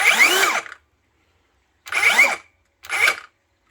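A 7 1/4 inch rear handle circular saw spins up three times with the trigger pulled: a long whining burst, a pause, then two shorter runs, each winding down quickly, loud and close with no talking.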